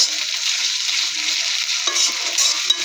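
Ginger-garlic paste fries in a pan with already-fried chopped onion, a steady close sizzle broken by scraping stirs and a clink near the end.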